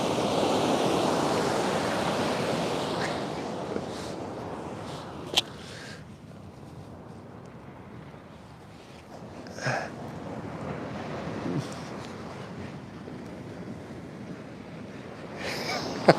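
Waves wash steadily onto a wild shoreline, a broad continuous surf roar that swells and eases, with wind buffeting the microphone and a few faint clicks over it.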